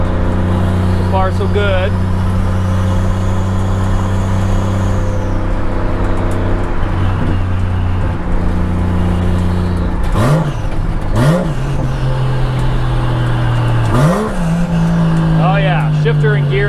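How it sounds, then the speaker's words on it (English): A turbocharged 1JZ engine in a Chevy Nova roars loudly and steadily on a drive, its pitch climbing and falling as it revs and shifts, with turbo whoosh and a few sharp throttle swells; someone speaks briefly over it. "Very loud. A lot of turbo sound."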